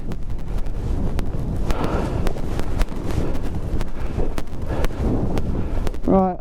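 Strong wind in freezing Arctic cold at -11°C buffets the microphone with continuous rough gusting and irregular thumps, and a voice is briefly heard near the end.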